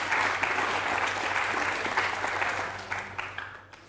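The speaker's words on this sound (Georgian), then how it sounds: "აპლოდისმენტები მას" A studio audience on a Georgian book quiz show applauds a contestant. The clapping is steady and full, then thins and fades out toward the end.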